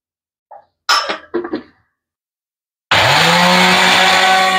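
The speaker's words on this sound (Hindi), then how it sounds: "तो ये हो गई हमारी अजवाइन भी ग्राइंड" After a few light taps and knocks, an electric grinder starts up and grinds carom seeds (ajwain) with a loud, steady, high-pitched motor whine that runs on without a break.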